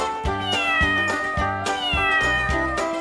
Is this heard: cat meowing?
yes